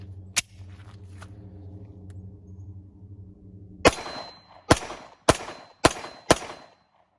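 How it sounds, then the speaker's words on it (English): Five sharp, loud reports from an S&W M&P pistol firing 124-grain rounds at an indoor range. The shots ring with a metallic clang, spaced about half a second apart, after a quieter stretch of background hum and a couple of light clicks. "we're going to start out running 5 rounds and pay attention to the amount of recoil"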